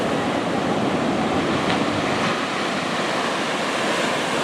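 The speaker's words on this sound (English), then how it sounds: "But this is the St. Augustine Beach" Ocean surf rolls steadily onto St. Augustine Beach, a continuous broad wash of breaking waves with some wind noise, loud and unbroken throughout.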